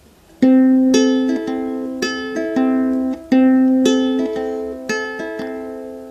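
Plucked ukulele strings picked one at a time in a steady repeating pattern, bright and close, each note ringing into the next.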